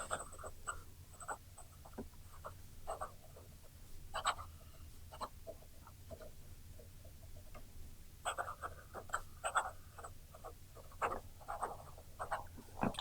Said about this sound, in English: this fountain pen can keep up with faster writing